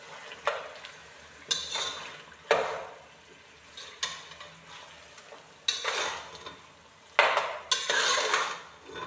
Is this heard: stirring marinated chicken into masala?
yes